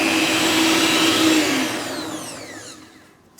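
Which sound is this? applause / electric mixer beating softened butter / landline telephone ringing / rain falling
electric mixer beating softened butter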